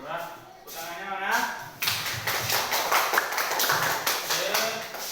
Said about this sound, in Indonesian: Surat, tepuk tangannya mana?